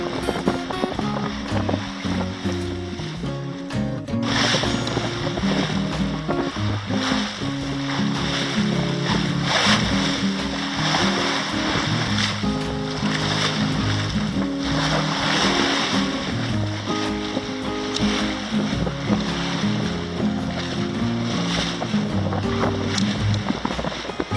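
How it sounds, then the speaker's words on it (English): A sailboat under sail at sunset, running from South Carolina to Florida, produces a steady wash of water and wind with ongoing rushing surf along the hull, under faint background music. "All day sailing in perfect conditions."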